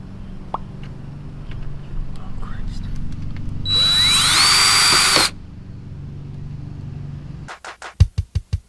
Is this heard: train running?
no